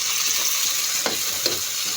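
Tomatoes sautéing with garlic and onion in a pan for ginisang repolyo, a loud, steady close sizzle with a couple of brief stirring scrapes, no talk.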